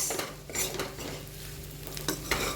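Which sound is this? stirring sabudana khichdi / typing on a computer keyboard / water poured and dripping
stirring sabudana khichdi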